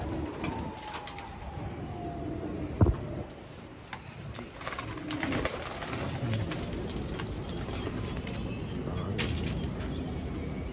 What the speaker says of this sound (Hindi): कबूतर सारे अंदर चले गए।